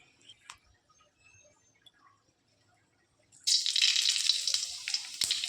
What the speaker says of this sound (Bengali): তেলটাও গরম হয়ে গেলে এর মধ্যে একটু সর্ষে ফোড়ন দিয়ে দেব।